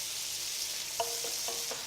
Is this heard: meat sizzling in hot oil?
yes